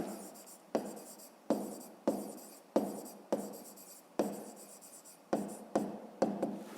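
A pen writes out a math solution on paper in a quiet room, with about ten short scratchy bursts of strokes separated by brief pauses and no voices.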